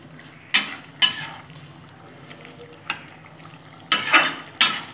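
Shosha sukto, a cucumber curry, being stirred in a pan with sugar just added. Sharp, close scrapes of the spoon come in irregular bursts over a low, steady simmer.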